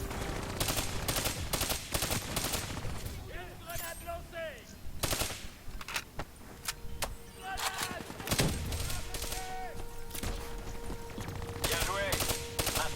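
A hijacked turret in the Black Ops 3 campaign fires rapid machine-gun bursts, with repeated volleys and scattered gunfire and occasional voices in the background.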